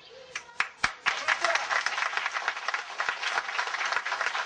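An audience at a ceremony applauds steadily, a few sharp opening claps swelling into continuous clapping that holds at moderate loudness throughout.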